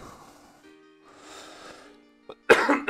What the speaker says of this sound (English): I do have quite a bit of a nasty cough.